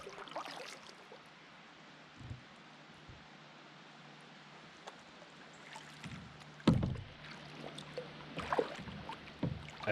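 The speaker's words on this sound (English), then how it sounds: "I paddled closer to get a better look to see what was hidden underneath." Canoe or kayak paddling on calm water, soft wet dips and splashes from the paddle with occasional hollow knocks against the hull, over a faint breezy hiss, close and without talking.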